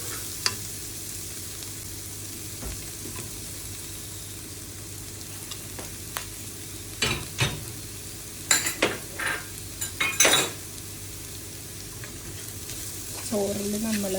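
Vegetable fried rice is stir-fried in a pan, with a steady low sizzle under sharp scraping and clinking strokes of the spatula that cluster and grow louder toward the end.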